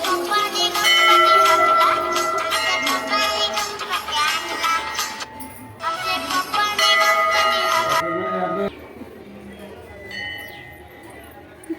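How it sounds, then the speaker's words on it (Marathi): Ringing and clinking metal bells fill a Ganesh temple visited on Mahashivratri, bright sustained tones overlapping loudly for about eight seconds before thinning to fainter, scattered chimes. "घंटा वाजत आहे"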